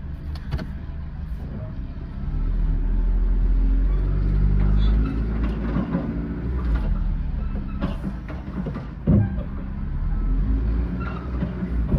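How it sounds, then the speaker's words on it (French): A car engine strains against the engaged handbrake while trying to pull forward, a steady low droning rumble that swells louder midway and holds, with a few mechanical clunks and no talk. "je mets de la patate pour essayer d'avancer malgré le frein à main"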